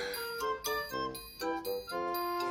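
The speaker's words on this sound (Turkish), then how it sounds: "Zil çaldı hadi duymuyor musun?" A bright electronic school bell chime plays a short repeating melodic pattern of ringing tones, clear and close, with no talking.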